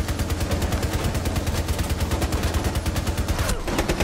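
Loud, rapid automatic gunfire in a video game: dense, continuous bursts of shots hammer away almost without pause, then briefly break off near the end.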